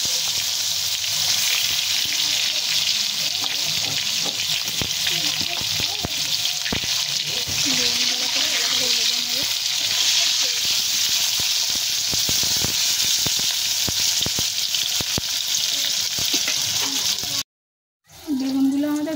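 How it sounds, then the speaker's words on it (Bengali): Eggplant slices frying in hot oil in a wok give a steady, loud sizzle that runs continuously, with occasional faint scraping, then cut off by a brief silence near the end. "ওই কড়াইতে একইভাবে আমরা বেগুনগুলোকে ভেজে নেব।"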